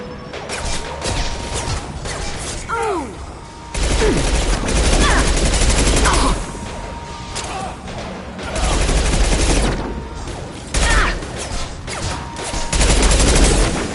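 Heavy gunfire in Mass Effect 2, high-impact shots ringing out in loud bursts and rapid volleys with mechanical clatter between them, alongside voices speaking.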